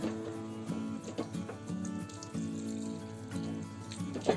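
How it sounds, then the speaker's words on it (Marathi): Water runs and splashes into a metal pot of raw papaya curry, a steady pouring flow with a few clanks of the vessel, close by and without talk. "आता त्याच्यामध्ये आहे ना पाणी टाकते बघा."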